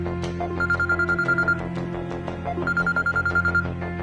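A telephone rings in a Tamil TV serial scene, two bursts of rapid electronic trilling bell tones separated by a pause, clear and prominent over a steady background hum.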